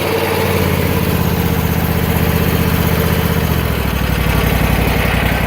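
A Husqvarna PZ60 zero-turn mower engine at half throttle, loud and close, chugging steadily at idle before the beat shifts and settles slightly lower, with no voices.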